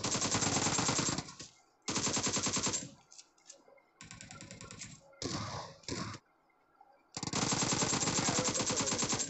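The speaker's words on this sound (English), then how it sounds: "Kill him with the pistol." Rapid pistol gunfire from the mobile battle-royale game PUBG Mobile, in several loud bursts of sharp repeated shots separated by short pauses, the longest volleys opening and closing the passage.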